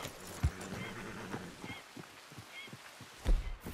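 A Missouri Fox Trotter horse racing in the PC version of Red Dead Redemption 2, heard as faint, scattered hoof clops and a couple of snorting, honk-like calls at the start and end, with no talking.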